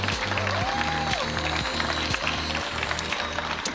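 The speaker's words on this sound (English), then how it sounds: "can I get everyone to give a big round of applause to these people?" An awards ceremony audience at the GovHack 2022 red carpet awards claps loudly and continuously, a dense wash of hands layered over a steady, pulsing music beat that plays underneath throughout.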